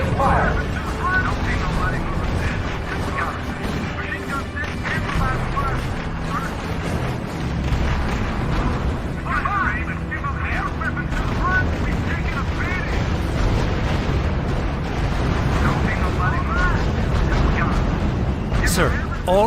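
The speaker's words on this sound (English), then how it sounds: "Unit under sustained fire." Sustained gunfire, artillery booms and explosions rumble continuously in the WWII strategy game R.U.S.E., a dense, loud battle din under radio-style voice reports.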